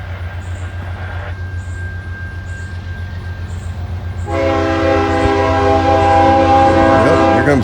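A CSX freight train rolls past a station, its engine rumbling low and steady before a loud, sustained multi-tone horn blasts in and holds to the end of the clip.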